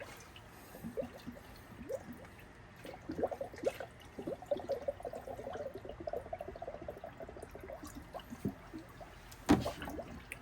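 Coolant glugs and trickles steadily into the engine of a Dodge Caravan, with soft gurgles and drips and a brief louder splash near the end, quiet and close.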